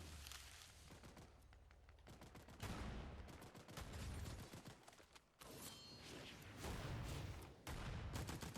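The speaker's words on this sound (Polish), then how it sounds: "dalej w mnie strzela" Fortnite gunfire comes in dense, loud bursts and sustained volleys with heavy booming impacts, continuous and close through most of the stretch.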